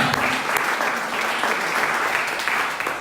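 A church congregation bursts into sustained applause, a dense, steady clatter of many hands clapping close by, with a few cheers mixed in, lasting the whole moment.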